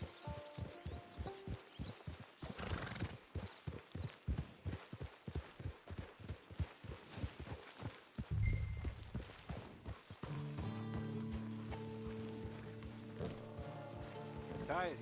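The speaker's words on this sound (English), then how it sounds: "Get your horse." Horse hooves clip-clop in a steady walking rhythm in Red Dead Redemption Online on PS4 Pro, close and clear, followed by a brief snort-like burst and then game music and ambience.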